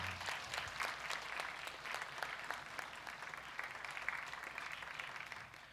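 A church congregation claps steadily at a retirement recognition during a service, with sustained, moderately distant applause throughout.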